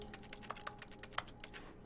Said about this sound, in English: I don't know why it's making keyboard sounds even when I'm looking over here and clicking